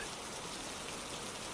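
Steady soft rain falling on leaves, a dense even patter of many small drops blending into one continuous hiss with no voices.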